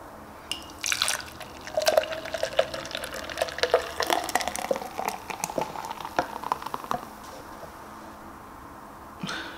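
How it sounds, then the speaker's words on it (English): Crackling, popping sizzle of food cooking, irregular spits and hisses that build and then fade, heard up close with no talking. "I think it's making a sizzling noise."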